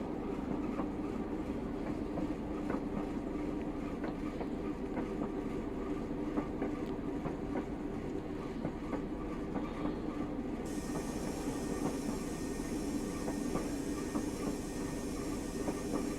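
A Class 111 diesel multiple unit in Train Simulator Classic, running between Bishop Auckland and Middlesbrough, with a steady loud engine drone and rail rumble plus rhythmic wheel clicks as it accelerates, continuous with no talk.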